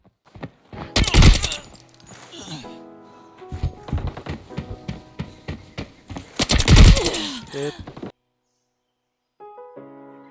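AK-74N rifle fire in the Arena Breakout video game: loud, rapid bursts of automatic shots with short gaps between them, ending in quieter clicks and handling noises.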